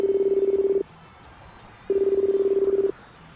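A telephone rings in an audio drama, two long, loud electronic warbling rings separated by a short pause, clear and close with no voices over them.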